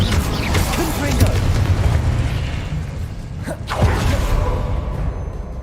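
Confringo, the fiery blasting curse from the Hogwarts Legacy wizarding game, goes off amid dense, continuous rumbling bursts and whooshes that stay loud throughout, with a sharper pop partway through.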